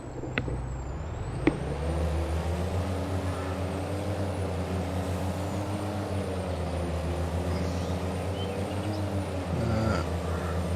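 A truck idles with a steady low diesel drone in Farming Simulator 22 on the Gnadenthal map, with two sharp air-brake hisses near the start and a faint high whine above the engine.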